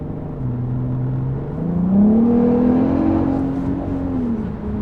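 A 500 hp Audi RS3 accelerates through city streets, its engine note climbing steadily in pitch then settling, a close, loud rumble with a faint turbo whir riding on top.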